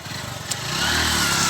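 A motorcycle engine stuck in mud on a backcountry dirt trail idles with a chugging pulse, then revs up and holds a loud, rising drone over roughly a second and a half.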